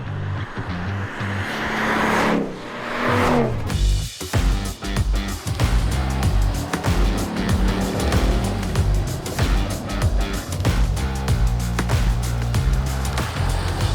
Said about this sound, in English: I'm just floating along these roads in the Mustang